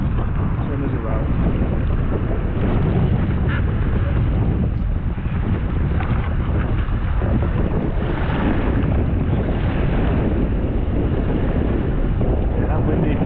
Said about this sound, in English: till the wind dies down again